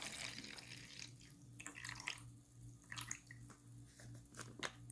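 Mango pickling brine poured out of a container, heard as close, irregular dripping and splashing with soft wet squishes over a steady low hum.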